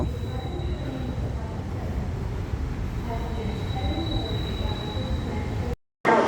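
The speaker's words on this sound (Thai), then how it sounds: "ตัวรถนั้นน่าจะเข้าที่ ดอนเมืองแล้ว ขบวนสิบอุตราวิถีนะฮะ" Thai passenger train number 10, the Uttarawithi service from Chiang Mai, running near Don Mueang, with a steady rolling rumble of wheels on track and a faint high squeal that carries on throughout.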